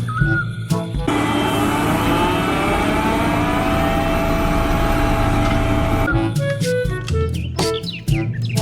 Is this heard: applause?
no